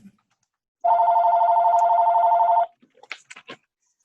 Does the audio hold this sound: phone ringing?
yes